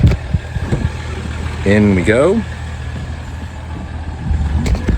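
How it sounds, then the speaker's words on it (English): A Ram pickup truck's engine idles with a steady low rumble throughout, while a person speaks briefly near the middle. "the truck's still running"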